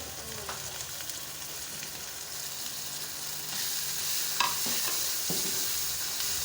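Tomatoes go into a pan of frying Punjabi chole masala, a steady loud sizzle with bursts of stirring and scraping and a few sharper clatters of the spoon, no voices.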